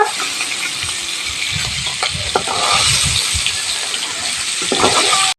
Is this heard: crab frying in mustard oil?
yes